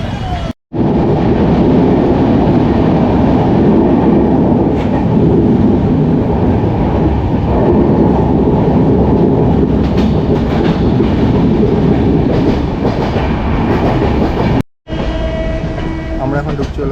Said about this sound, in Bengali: এই সাইড দিয়ে লোকাল ট্রেনটা যাচ্ছে